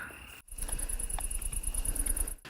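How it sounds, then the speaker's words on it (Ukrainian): Crickets chirping in a ruined, war-torn town near Donetsk, a faint high continuous trill pulsing in quick regular beats over quiet outdoor background, cut briefly at the start and end. "Тут перетріскують цвіркуни."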